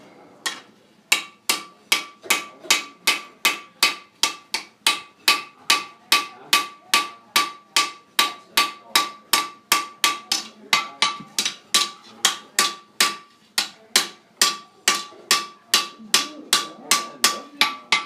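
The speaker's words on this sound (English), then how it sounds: "Hammer." A blacksmith's hammer repeatedly strikes a steel knife blade on an anvil, a steady, evenly spaced series of loud ringing metallic blows close by, around two strikes per second without pause.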